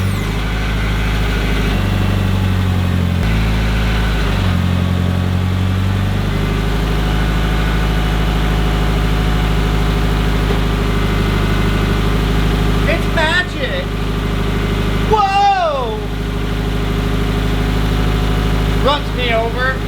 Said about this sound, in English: put it in first gear and kind of let some fluid move around the transfer case and the rear diff